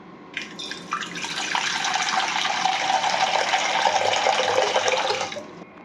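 A kitchen tap runs for several seconds while soaking water is changed. The stream makes a steady splashing gush that starts abruptly, holds even and cuts off near the end, close by with no voices.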